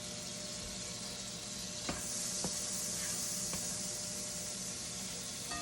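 A pat of butter sizzles in a large crepe pan, a steady close hiss and crackle holding evenly throughout, with a few faint clicks of utensils and no talking.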